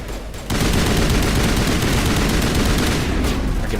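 Rapid gunfire from a 2007 space RPG video game bursts in after a short quiet lead-in and continues as a dense, loud, sustained volley of shots with no talking.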